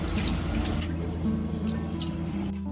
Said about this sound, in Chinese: 这个牛肉我们最好是开热水清洗